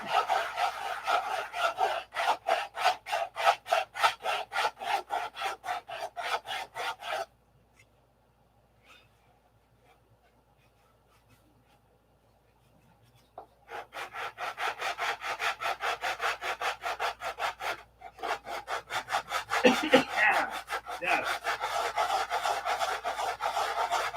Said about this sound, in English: This is the part everybody loves, the sanding.